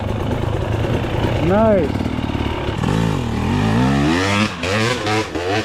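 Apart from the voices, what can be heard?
dirt bike motorcycle throttling up a loose hill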